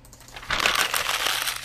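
Paper pickup sound effect for collecting pages in a beginner Unity horror game, a short burst of crisp rustling and crinkling that starts abruptly and holds for about a second, close and fairly loud.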